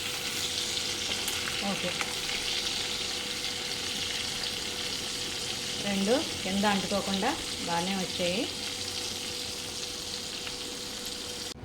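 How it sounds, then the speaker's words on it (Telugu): Pieces of fish fry in boiling oil in a pan, giving a steady, close, continuous sizzle and crackle throughout. A voice speaks briefly over it midway through. "ఆయిల్ మరుగుతుంది, పీసెస్ ఫ్రై అవుతున్నాయి"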